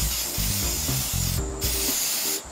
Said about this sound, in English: oil it with a cooking spray.